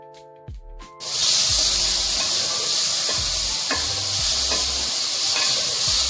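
Chicken frying in oil and ghee for soup, a steady loud sizzle starting after a second and continuing throughout, with occasional stirring scrapes and no talking.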